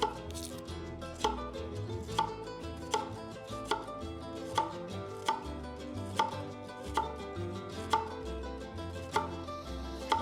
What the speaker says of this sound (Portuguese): Então a cebola também é importante que seja cortada em cubinhos pequenos para dar aquela textura desejada.